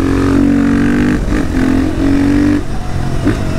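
A KTM 450 supermoto single-cylinder engine with an Akrapovic exhaust revs hard in loud, close bursts, rising and falling in pitch with short drops between pulls, no talk over it.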